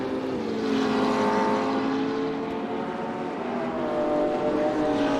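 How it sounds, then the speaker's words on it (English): Race car engines in the RaceRoom Racing Experience video game drone in layered, sustained tones, several engines overlapping with slowly shifting pitch, loud and close with no talking over them. "The engines sound really good, Eramus."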